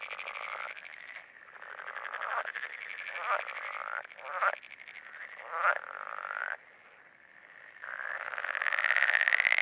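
Green frogs croak in spring in Slovenia, a dense chorus of rapid rattling calls rising and falling in bursts, some nearer and louder, with no voices.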